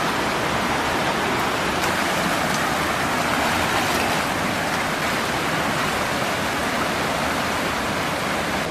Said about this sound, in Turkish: yağmur gelir